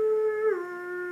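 A person imitates a wolf howl with a single sustained, tonal wail that bends in pitch midway and then holds steady, heard alone and fairly faint.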